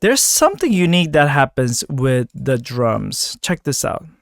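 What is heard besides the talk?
No everyday noises stand out.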